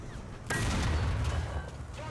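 A single heavy tank cannon shot from an IS-2 in War Thunder bursts in abruptly and loud, followed by a rumbling low boom that lingers under the engine drone.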